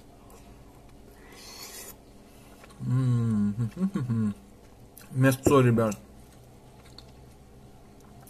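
A bite into a meaty dish gives a short rasping crunch early on, then quieter chewing noises close to the microphone, broken up by someone talking.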